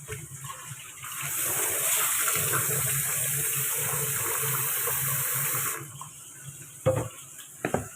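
Leafy greens being washed in water to rinse out sand, a steady close gush of running water for several seconds, then quieter splashes and a few sharp knocks.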